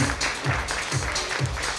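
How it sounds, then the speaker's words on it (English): Applause for fashion show contestants at a glamour event, a crowd clapping in steady bursts with rhythmic low thumps beneath, moderately loud with no voices over it. "A huge round of applause for these beauties."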